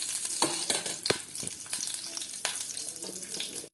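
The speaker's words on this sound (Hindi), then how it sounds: "तो सबसे पहले मैंने पैन को गरम कर लिया है और गरम होने के बाद इसमें हम डाल देंगे घी।" Ghee sizzles and crackles in a hot pan at the start of making halwa, with sharp popping bursts over a steady frying hiss, close and fairly quiet with no talking.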